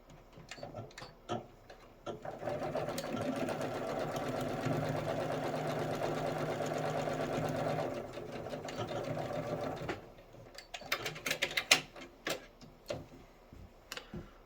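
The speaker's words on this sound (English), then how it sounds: "flip this over, and sew these raw edges together" A sewing machine runs steadily for several seconds, stitching the raw edges of a quilt table runner, its fast motor whir and needle rattle close by, with light handling clicks and taps before and after.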